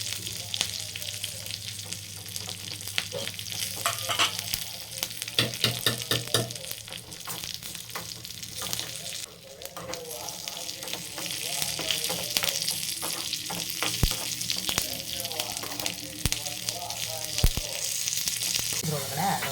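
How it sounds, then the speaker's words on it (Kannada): A tempering of mustard seeds, cumin and crushed garlic sizzles in hot oil, crackling and spattering steadily up close, with scattered pops and some stirring clatter, no voices. "ಸ್ವಲ್ಪ ಸಾಸಿವೆ, ಸ್ವಲ್ಪ ಜೀರಿಗೆ, ಅದಾದಮೇಲೆ ಬೆಳ್ಳುಳ್ಳಿ ಒಗ್ಗರಣೆ ಕೊಡ್ತಾ ಇದ್ದೀನಿ"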